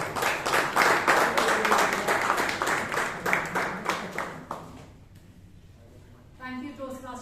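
Applause from the audience at a Bangalore Toastmasters meeting, a dense steady clatter of many hands that fades out around the fifth second before a voice begins speaking.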